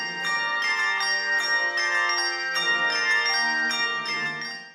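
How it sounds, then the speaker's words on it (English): Handbells rung by a choir from a large set of 61 or 72 bells, sounding a steady sequence of bright, ringing chords with overlapping sustained tones, close and clear for nearly five seconds with no voices. "when you have 61 or 72 bells, you can play more bells at one time than you can with fingers"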